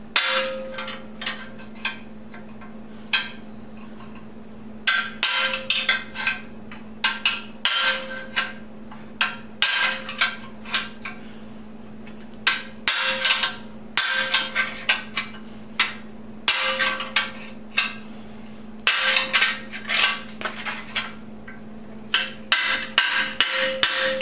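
Repeated loud metallic hammer strikes drive out a bearing race on a 1973 Honda CB750, ringing in irregular bursts, some in quick succession, with sharp clanging hits close by over a steady low hum.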